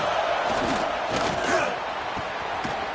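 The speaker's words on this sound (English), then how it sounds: "this crowd is turning it up a notch" A football stadium crowd roars loudly and steadily during a play, a dense wash of cheering with scattered thumps and shouts throughout.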